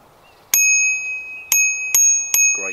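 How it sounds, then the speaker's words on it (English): A built-in bell on an Eleglide e-bike rings four times, each a sharp, bright ding with a long ringing tail, close and loud with no talking. "Built-in bell,"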